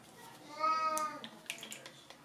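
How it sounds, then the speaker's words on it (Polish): A cat meows once with a drawn-out, rising and falling cry, followed by some light clattering and faint movement sounds nearby. "Bartuś, to mój kot."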